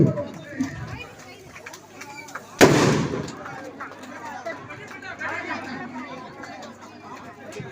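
A single loud firecracker bang bursts out partway through, its blast decaying over a second, while a crowd chatters and talks continuously around it.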